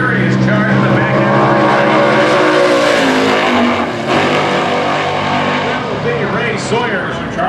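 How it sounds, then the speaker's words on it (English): A Super Gas drag race car, a 2002 Camaro, roars past at speed, going through the traps at over 170 at the New England Nationals, its loud engine note rising and falling under an announcer's commentary. "Sawyer's car is going to go through the traps at over 170."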